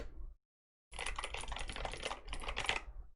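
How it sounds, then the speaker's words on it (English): Rapid clicky keystrokes on a Razer BlackWidow V3 Pro wireless mechanical keyboard, a dense close run of sharp clicks after a short silence, with a brief pause partway. "Keys are very clicky,"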